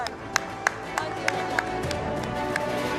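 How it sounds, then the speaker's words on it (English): Sparse claps sound from an audience at the News9 Global Summit awards ceremony, a handful of distinct sharp hand claps spaced across a short stretch over a busy room background. "huge round of applause"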